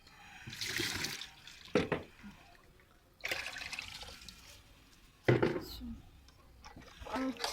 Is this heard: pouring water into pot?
yes